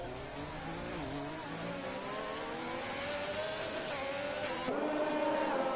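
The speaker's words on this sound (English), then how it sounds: "He was brave revving the hell out of it there in these conditions." Race car engine in an eRacing sim on an Austrian circuit, revving hard in rough conditions: a steady high-pitched engine whine rising and falling through gears, moderately loud and continuous, with a sharp shift near the end.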